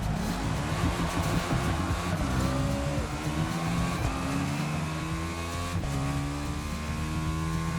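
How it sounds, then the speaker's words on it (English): A KTM RC8 motorcycle runs a practice lap on a race circuit, its engine droning loud and close with rising and falling revs through gear changes. "As you can see, I'm on a KTM RC8 and on a new circuit."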